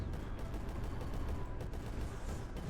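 Mortar barrage in the strategy game Creeper World 4, heard as a dense, continuous rumble of overlapping explosive thuds with a loud, steady roar throughout.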